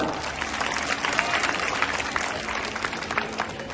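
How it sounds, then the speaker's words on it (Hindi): Audience applause at an outdoor Ramleela performance in Phase 11, Mohali, a steady dense wash of clapping held at even loudness throughout, with a faint voice or crowd murmur underneath. "जोरदार तालियां।"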